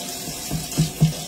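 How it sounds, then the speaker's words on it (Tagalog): Tap water runs steadily into a container indoors, a continuous close splashing hiss with a couple of small louder gurgles. "lalagyan ko na po ng tubig"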